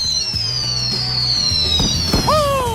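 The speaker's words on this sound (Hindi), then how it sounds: "कितना सुंदर, असली आतिशबाजी, एक उत्सव।" Fireworks at a celebration, a continuous dense crackle and fizz with high whistling streaks sliding downward, then a sharper burst near the end, loud and steady throughout.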